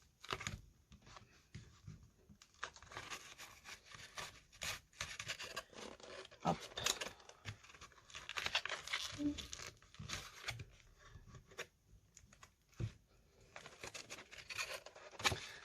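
Paper is folded and creased by hand while making a vase, with soft irregular rustles, rubs and crinkles close by, paused briefly now and then.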